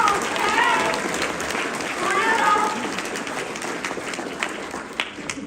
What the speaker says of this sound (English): I often hear some clapping right about that